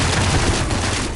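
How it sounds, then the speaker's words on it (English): Gunfire in the video game The First Descendant comes as a dense, continuous burst of rapid shots. It is loud and close and lasts about a second, with no talk over it. "I like the gentle pitter-patter of gunfire, so I'm going to go with more bullets."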